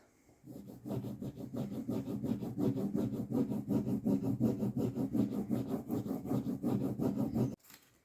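Steady rhythmic rubbing of a burnishing tool pressing a transfer onto a wine cart surface during a makeover, a close, continuous scratchy back-and-forth stroking that runs for about seven seconds and then stops abruptly.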